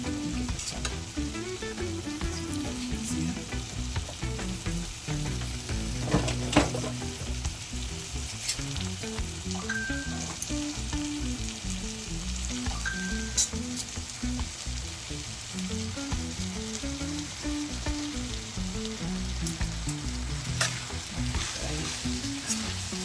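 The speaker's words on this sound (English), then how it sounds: "You're gonna stir it up. Everything, operating everything. Get the bully beef all over the macaroni." Bully beef and macaroni sizzle steadily in a frying pan while being stirred, a close, continuous frying hiss with scraping strokes throughout and no talking.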